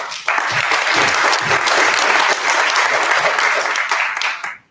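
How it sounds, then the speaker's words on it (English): A lecture audience breaks into applause, dense clapping starting abruptly and holding steady for about four seconds before fading out at the end. "a big round of applause to all of you for your time"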